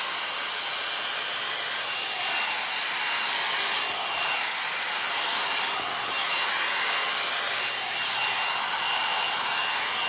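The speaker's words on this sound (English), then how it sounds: "you take like a blow dryer brush like I'm doing" A blow dryer runs steadily while a brush works through dry hair, giving a continuous close, loud airy whoosh with slight swells in pitch and volume, and no talking over it.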